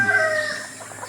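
Backyard chickens clucking, with a rooster's drawn-out crow-like call fading into softer clucks, fairly close and without people talking.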